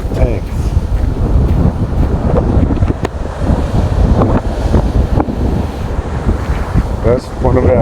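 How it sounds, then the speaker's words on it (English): Strong wind buffets the microphone at a coastal swimming and fishing spot called the tanks in Forster, with surf and ocean rumbling underneath as someone talks over the steady, loud roar. "I'm gonna get out of this wind."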